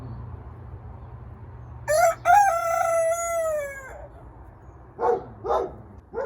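A rooster crows once, a long drawn-out call lasting about two seconds, followed by a few short clucking calls from nearby chickens.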